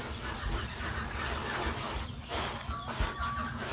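Young chicks about four to five weeks old clucking and murmuring nearby, a steady flock chatter with occasional louder calls, no talking.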